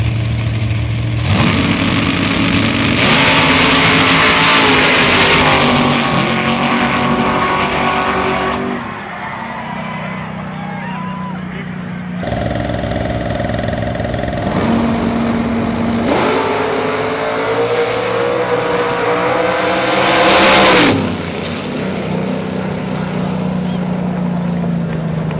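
Big tire drag race cars blasting down the strip at the Outlaw Armageddon event, a loud, roaring engine run that surges and fades, then a second pass that rises and sweeps by, with crowd and track noise between.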